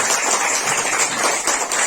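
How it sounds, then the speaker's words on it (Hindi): An audience at a spiritual empowerment event claps heartily, a dense, lively patter of many hands close by that continues for the whole moment. "जोरदार ताली बजाएं"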